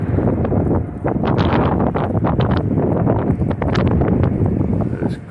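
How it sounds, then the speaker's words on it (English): Strong wind roars steadily into the microphone outside a mall, a loud continuous buffeting rumble with gusty surges throughout. "Wind is really blowing today."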